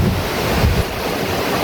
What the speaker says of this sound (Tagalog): Lakas talaga sobrang ulan.